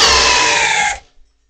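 A Makita hammer drill on speed 2 boring a 1-1/4 inch Speedbor spade bit into 4x4 lumber gives a loud, steady high whine for about a second before it cuts off abruptly, followed by a brief faint rattle and silence.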